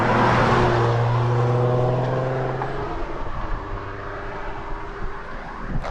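Ford Mustang with a V6 engine roaring loudly and close, a deep steady exhaust drone that slowly shifts in pitch and fades slightly as it continues, with no talking.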